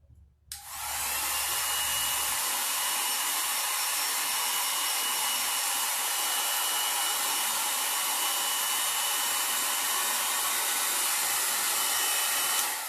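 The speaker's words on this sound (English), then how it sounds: "turn on your hairdryer for a few seconds and dry it" A hair dryer blowing on a cardboard craft switches on abruptly and holds a loud, steady, close whooshing roar for about twelve seconds, with no voices.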